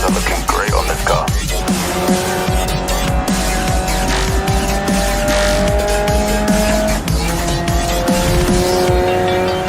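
GT3 race car in Assetto Corsa Competizione, loud throughout with a continuous engine roar that rises and shifts through gears, punctuated by tire squeals and skids through turns.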